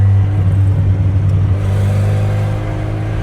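A car engine with its exhaust valve opened rumbles loudly and steadily, revving slightly, with a deep boomy tone and no voices over it.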